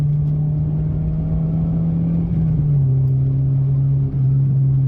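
Engine-swapped Ford with a 1.7 Puma gearbox accelerates hard on a B-road, a loud steady engine drone inside the car with brief dips as gears change twice.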